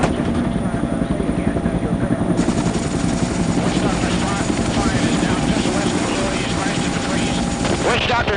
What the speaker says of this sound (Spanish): El mayor Bob Clewell y su compañía estaban entre los 30 helicópteros seleccionados para la misión